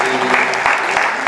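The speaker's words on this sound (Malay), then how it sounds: "Kita berikan tepukan kepada sini" A brief patch of applause for the USAS delegation at a formal university ceremony, a crowd clapping steadily and closely through a short moment.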